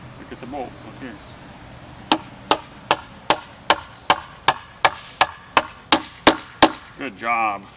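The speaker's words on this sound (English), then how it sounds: "Hammer right here." A bolt on a backyard swing set being struck with a hammer: about a dozen sharp metallic blows in a steady rhythm, close and loud, with a voice before and after.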